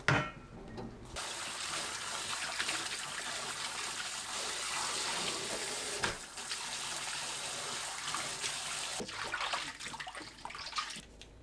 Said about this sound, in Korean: 13분 후 찬물에 헹굽니다.